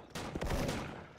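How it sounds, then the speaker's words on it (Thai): Rapid burst of gunfire from a Wa 2000 sniper rifle in a first-person shooter game, a short cluster of sharp cracks up close, with no talk over it. "ปืนรัว"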